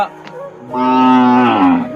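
A cow gives a loud, close, drawn-out moo that swells and then falls away, heard alone with no talk.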